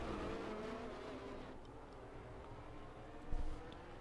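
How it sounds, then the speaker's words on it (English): An Aston Martin safety car circles the virtual Belgian Grand Prix in the F1 22 racing game, its engine a steady, close, continuous drone that holds level throughout with a brief louder surge near the end. "It's an Aston Martin safety car"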